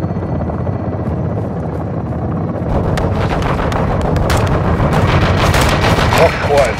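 Dense automatic and single-shot gunfire in Call of Duty: Modern Warfare 2, with a helicopter-like rotor drone underneath; the shooting builds into a loud, continuous fusillade after a quieter opening, with a voice speaking over it.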